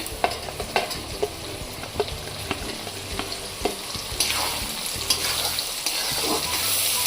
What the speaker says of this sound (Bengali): আলু আর পেঁয়াজ একসঙ্গে লাল হবে। এবারে আমি মটরশুঁটিগুলো দিয়ে দিই।